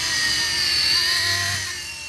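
An E-flite Blade mSR radio-controlled helicopter flying indoors across a room, its rotor whine high and steady and fairly close, briefly swelling then easing off as it zooms past, with no talking.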